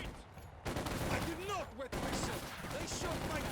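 Machine gun fire in Company of Heroes 2 during a 1v1 match, steady rapid rattling bursts that carry through the clip, mixed with whistling effects and a voice speaking over the battle.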